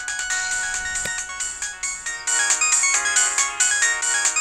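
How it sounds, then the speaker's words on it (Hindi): A mobile phone ringtone rings loudly and continuously with a bright, rhythmic melodic pattern, heard alone without talk. "वही फोन कर रही है। उठा लेना।"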